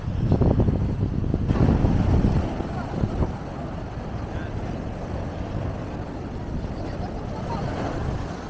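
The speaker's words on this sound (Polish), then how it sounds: "wiatr piska straszny" Strong wind near the sea in Málaga, Spain buffets the microphone in heavy low gusts, loudest at first and then settling into a steady rushing blow.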